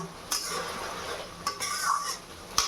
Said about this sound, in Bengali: কড়াই থেকে এবার ঢেলে নিলাম